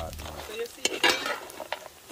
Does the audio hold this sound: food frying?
yes